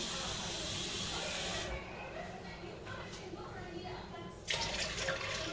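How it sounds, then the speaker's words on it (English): Milk and water pour into an empty pot, a hissy, splashing stream that cuts off and then starts again, with a voice talking faintly beneath. "So milk and water goes down in there."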